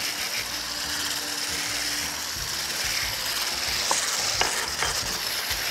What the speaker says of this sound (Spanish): Cuando pasa la batidora, pues estamos a punto de echarle el azúcar.